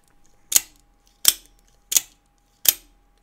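An automatic knife with a full aluminum handle fires its blade four times at an even pace, each a sharp, close metallic snap followed by silence.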